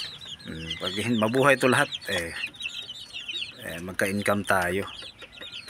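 Native chickens cluck and fuss in a backyard coop at feeding and watering time, their calls recurring through the clip beneath someone speaking close by.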